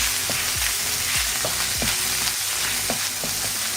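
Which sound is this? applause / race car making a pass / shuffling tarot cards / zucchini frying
zucchini frying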